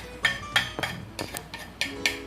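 Cream, condensed milk and blended mango being mixed in a bowl for homemade ice cream, with a spoon or utensil giving about seven bright clinks and scrapes against the bowl in a loose rhythm, close and fairly loud.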